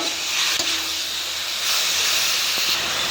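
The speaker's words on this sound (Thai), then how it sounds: "ใส่กระลำปีที่เราเตรียมไว้ ผัดไปสักพักหนึ่งผัดไปเรื่อยๆให้มันไม่ไหม้นิดนึง" Steady loud hiss and sizzle of cabbage stir-frying in a hot wok, with a few faint clicks of a utensil against the pan.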